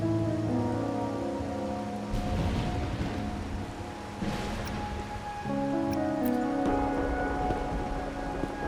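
Steady, dense rainfall in the video game Wuthering Waves patters continuously throughout, blended with soft sustained musical tones.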